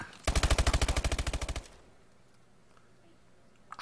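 Automatic gunfire in Call of Duty Advanced Warfare: a single fast, evenly spaced burst of about sixteen loud, close shots lasting over a second. Near silence follows, then a sudden loud sound at the very end.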